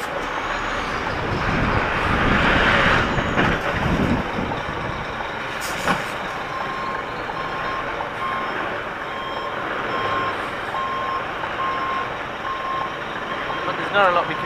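A wide large vehicle backs up on a road, its reversing beeper sounding as a steady repeated tone over a continuous engine idle and road noise, with a voice heard briefly.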